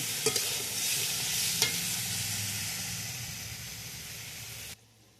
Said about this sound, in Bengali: সয়াবিন আলুটা ভালো করে কষাতে হবে।